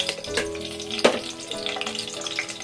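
Green chilli slits sizzle and fry in hot oil in a pan, a close, steady crackle with a couple of sharper pops as they hit the oil, heard alone.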